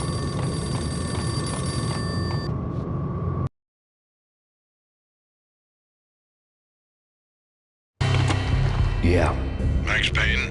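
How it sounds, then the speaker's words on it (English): A payphone rings in the Max Payne video game with a steady electronic bell tone, then cuts to silence before game sounds and a voice resume. "The payphone started to ring."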